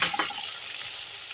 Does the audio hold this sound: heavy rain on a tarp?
no